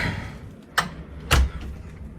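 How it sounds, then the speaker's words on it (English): Hotel room door at a New Orleans Marriott pushed shut indoors, giving two sharp close knocks, the second a heavier thud as it latches, over quiet room tone. "I will go ahead and close this door."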